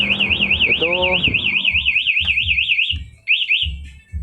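A Honda Beat scooter's alarm wails in a loud, rapid warbling siren close by, cutting off briefly near the end before resuming, with someone speaking underneath.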